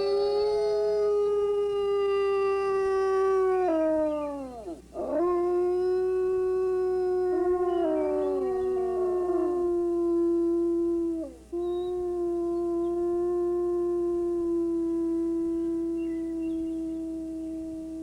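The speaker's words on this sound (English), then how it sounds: "The howl has several meanings. Its main purpose is to assemble the widely scattered pack for the hunt." Wolves howl in long, sustained, tonal calls from a pack, several voices overlapping and sliding down in pitch before rising again, loud and continuous with no talking.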